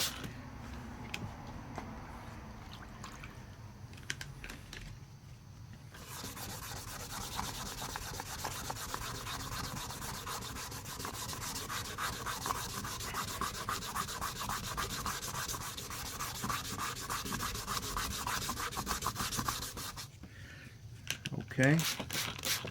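Sandpaper rubbed back and forth over a plastic headlight lens, a steady rhythmic rasping scrub close up, running almost continuously with brief pauses and a voice heard at moments.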